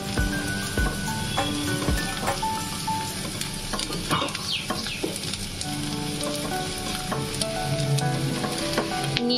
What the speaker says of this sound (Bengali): গ্যাসের ফ্লেমটা বাড়িয়ে নিয়ে আমি এর মধ্যে দিয়ে দিচ্ছি চিলি ফ্লেক্স আর কাঁচা লঙ্কা